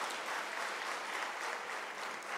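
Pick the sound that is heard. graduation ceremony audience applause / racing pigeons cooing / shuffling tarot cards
graduation ceremony audience applause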